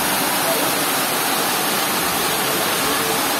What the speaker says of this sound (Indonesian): Semoga segera reda hujannya.